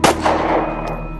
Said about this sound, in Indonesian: Sebuah ledakan terdengar begitu kencang, bak ledakan petasan.